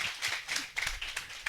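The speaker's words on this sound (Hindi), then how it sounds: "जोर से ताली बजा, अगर खुदा के लिए बजा रहे तो जोर से बजा।" An audience at a family conference session claps together, a dense patter of hands filling the hall steadily with no voices over it.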